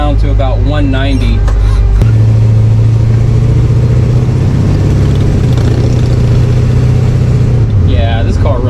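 A 1955 station wagon's engine runs steadily at idle with its electric cooling fan switched on, a loud, continuous low drone and whir up close, with someone talking over it at the start and end.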